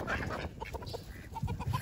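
A flock of chickens cluck and murmur while being fed on the ground, several close, soft clucks in an uneven chatter with no talking over them.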